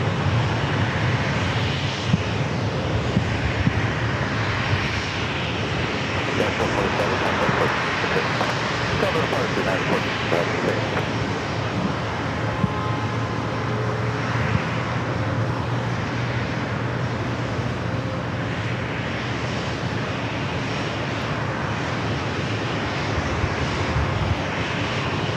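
An airliner bound for SFO roars steadily at San Diego airport, a loud broad jet rumble holding for the whole stretch while a voice talks over it.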